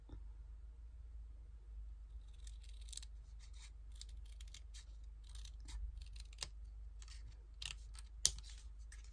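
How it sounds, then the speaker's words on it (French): Small scissors cutting paper for a mini art-journal collage: a series of faint, sharp snips and clicks over a low steady hum, growing busier toward the end, with no voice. "je vais prendre mon petit ciseau et je vais venir découper ici"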